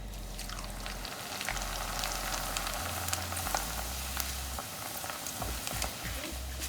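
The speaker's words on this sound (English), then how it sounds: "now I'm just going to add some chivda in this basket and just dip the basket in and let it fry" Corn chivda deep fries in hot oil in a basket, giving a dense, continuous sizzle and crackle with scattered pops throughout, under a low electrical hum.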